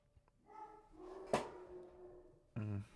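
Several dogs bark in a home, faint and somewhat distant, with a few scattered barks and a longer bark near the end, and no one speaking over them.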